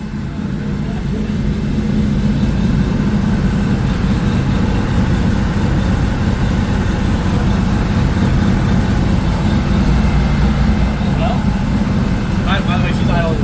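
A Ford car engine idles right after its first startup on a newly fitted fuel system, a steady low rumble running continuously up close with faint garage noises.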